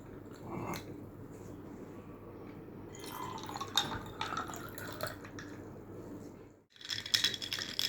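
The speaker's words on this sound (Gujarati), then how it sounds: "ફ્રેન્ડ્સ હવે આપણે પાણી એડ કરીશું" Cold water is poured into lemon iced tea, giving a steady, soft liquid trickle and drips in a glass vessel, then a brief pause before a brighter splash of pouring resumes.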